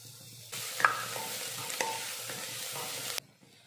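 Chopped onions and finely cut green chillies fry in a pan, a bright sizzle that swells when stirred and cuts off near the end, with a couple of scraping stirs in between.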